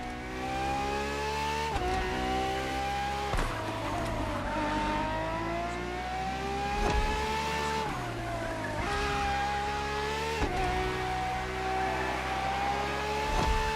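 A Ferrari racing car engine in The Crew Motorfest screams through repeated high revs, each run climbing and then dropping sharply at gear shifts, loud and continuous with brief tyre squeals.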